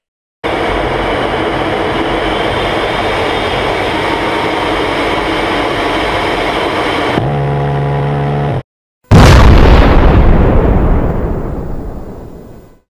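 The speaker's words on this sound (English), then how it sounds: "Call an airstrike!" An airstrike in a video game: a long, dense roar runs for several seconds and shifts to a tonal drone, then a sharp, heavy blast follows and decays slowly into a fading rumble.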